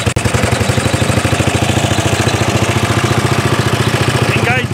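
A 1930s Dennis Z Type petrol lawn mower engine runs loud and close with a fast, steady chugging beat, a brief voice rising near the end.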